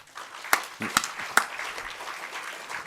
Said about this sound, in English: Everyone should clap now.